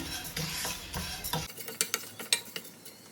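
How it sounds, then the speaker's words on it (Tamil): Moong dal roasting in a granite pan and being stirred, soft scraping at first, then a run of sharp, quick spoon taps and scrapes against the pan, close but fairly quiet, with no voices. "பாசிப்பருப்பு சீக்கிரமாக அடி பிடிக்கும் அதனால் நம்ம வந்து கலந்து விட்டுக்கலாம்"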